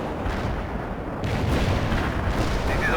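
An artillery barrage in the real-time strategy game World in Conflict, Soviet guns pounding with dense overlapping booms and rumbling explosions that swell louder partway through, continuous and heavy.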